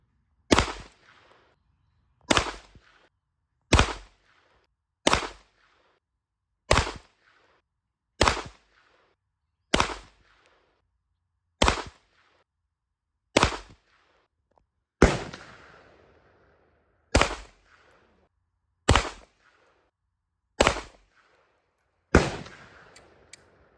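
Beretta 92A1 pistol fired at an outdoor firing range, about fifteen loud, sharp single shots spaced evenly roughly every one and a half seconds, each with a short fading echo.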